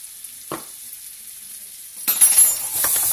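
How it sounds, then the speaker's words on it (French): A spoonful of sugar caramelizes in a pan over lowered heat, first near silent with one soft clink, then a gentle sizzle rises and crackles steadily alongside light stirring. "Et là, on va laisser caraméliser gentiment."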